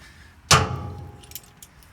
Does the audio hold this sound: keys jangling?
yes